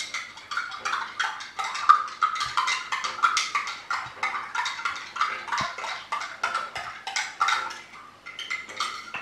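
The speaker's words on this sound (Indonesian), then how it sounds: "Kita aduk." A spoon clinks steadily against a glass while stirring a Nutrisari young coconut drink, a quick, repetitive tinkling rhythm of light metallic taps, close and fairly quiet, heard on its own.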